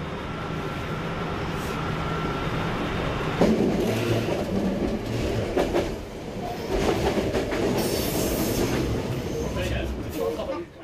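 A Hokuetsu Express train rumbles steadily along the rails with rhythmic clacking and rattling of the carriage during sudden braking and speed changes, a continuous close mechanical roar throughout.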